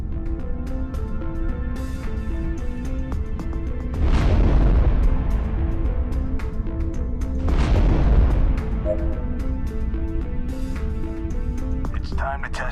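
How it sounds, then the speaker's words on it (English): Two deep roaring boosts from a spaceship afterburner in the End Space VR video game, each swelling for a few seconds over a steady engine tone and synthetic music. "Now, let's test the afterburners."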